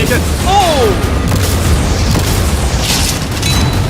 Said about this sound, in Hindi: वो कैनन्स उसे बर्बाद कर रहे हैं।